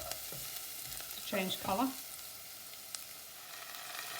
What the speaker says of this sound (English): They've been frying now for just a couple of minutes